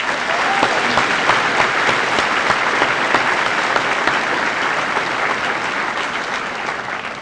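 A high school senior assembly audience claps steadily for staff, a dense, even wash of applause that holds strong and fades slightly toward the end, with no speech over it.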